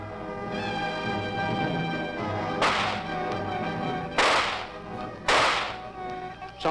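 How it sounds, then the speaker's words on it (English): Three sharp gunshots from the film Plan 9 from Outer Space crack out a second or so apart over background music, each loud and abrupt. "I wonder what those gunshots could mean."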